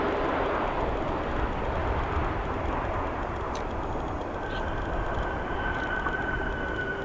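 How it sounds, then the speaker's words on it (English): A CRJ-200 jet airliner arriving at O'Hare airport after a short flight from Lincoln, Nebraska, heard as a steady, loud broadband engine roar that holds throughout, with a faint tonal whine emerging toward the end. "CRJ-200 landing here"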